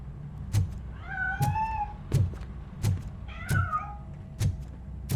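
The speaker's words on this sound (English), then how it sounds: "That cat must be hiding inside." A cat meows twice in the RoboCop: Rogue City video game, drawn-out rising and falling cries heard over a steady run of dull, regular thuds.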